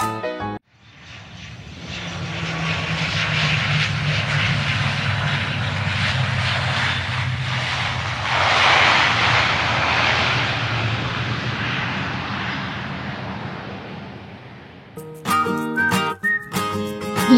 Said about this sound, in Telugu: ఈసారి మాత్రం ఫ్లైట్ ల్యాండింగ్ చాలా బాగా చేశారు